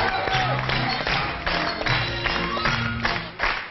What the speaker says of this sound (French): On peut applaudir fort.